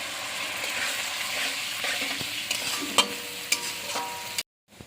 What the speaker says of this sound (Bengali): গ্রেভি ফুটে গেছে।